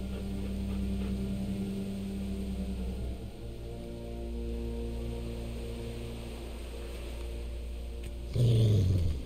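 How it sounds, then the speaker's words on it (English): A dog in The Walking Dead (Telltale) game growls low and steadily over a constant hum, with a brief louder whimpering burst near the end. "Oh, it's a dog!"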